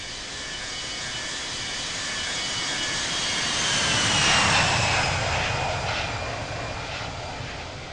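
Airliner taking off from runway 16 left at Salt Lake City Airport, a sustained jet engine roar building to a peak midway and then slowly fading, heard from a distance with no talk over it.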